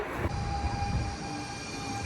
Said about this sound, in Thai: รถไฟมาแล้วค่ะ